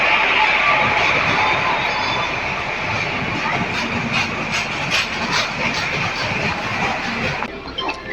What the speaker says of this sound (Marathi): चला ट्रेन भेटली गणपती स्पेशल